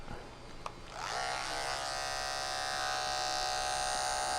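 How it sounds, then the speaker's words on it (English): Andis Supra hair clippers fitted with a detachable 2 guard switch on after a brief click and buzz steadily, close up, in a barbershop. "I usually start out with my Andis Supra with the detachable 2 on it."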